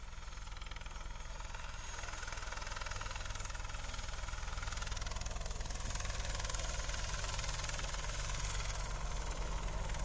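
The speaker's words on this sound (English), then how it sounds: "The Apache is conducting a running takeoff" An Apache helicopter's engines and rotor drone in a steady, throbbing roar during a running takeoff at an air display, heard from a distance at an even level throughout.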